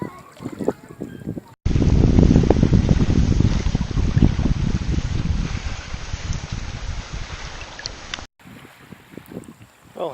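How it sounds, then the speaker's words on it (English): Wind blowing on a beach by the harbor at Luleå: a long, loud roar of gusts buffeting the microphone, with quieter stretches and a voice at the start and end. "See, it's a little bit windy, not too much."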